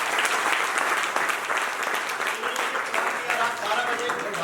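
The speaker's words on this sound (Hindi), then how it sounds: "मिस्टर सुभाष डिंगड़ा जी के लिए जोरदार तालियां।" Loud, sustained applause from a crowd at a DTM business training session in Meerut, honoring Mr. Subhash Dingda, with dense steady clapping throughout and some voices mixed in.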